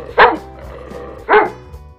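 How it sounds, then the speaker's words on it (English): A dog gives two loud, close barks about a second apart, with a low steady hum underneath and no talking. "Dog, dog mean kutta."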